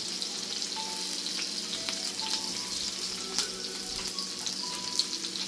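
Chopped onion, cinnamon and cardamom sizzle and crackle steadily in hot ghee in a pan, with faint stirring sounds and no talking.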